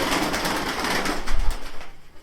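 Racing pigeons coo softly nearby in a loft, low throaty murmurs rising toward the end over a steady background hiss.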